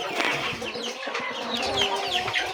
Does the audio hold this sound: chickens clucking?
yes